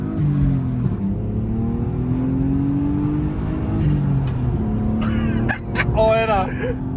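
A low-budget turbocharged BMW E36 on its first drive, engine droning and rising and falling through gear changes, close and loud, with voices talking over it near the end.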